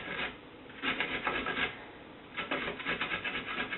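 Carrots grated by hand over a turkey burger meat mixture, a close, rhythmic rasping of quick repeated strokes in two bursts with a short pause between, no talk.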